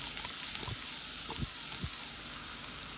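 Sliced onion, green chili, and lengthwise-cut ginger and garlic sizzle steadily in hot oil for a Palakkad-style soya masala curry, with a few soft thumps of stirring through the continuous frying hiss.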